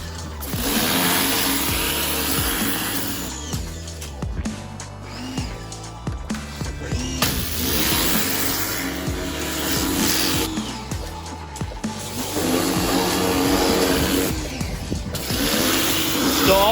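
A Bolens 450 series mower's Briggs and Stratton 125cc engine running close by, a loud steady drone with repeated surges and dips in speed, no voices.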